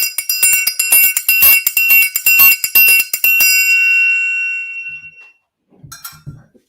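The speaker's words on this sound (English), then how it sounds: "I've got my triangle," A metal triangle rings with rapid, repeated strikes, building a bright shimmering tone that fades out, followed by a couple of soft low knocks.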